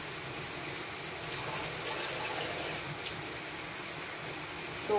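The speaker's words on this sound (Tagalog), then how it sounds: "Mag-add tayo ng tubig." Water poured steadily from a cup into a cooking pan while making creamy pork tenderloin with mushroom sauce, a continuous close splashing gush that holds level until the end.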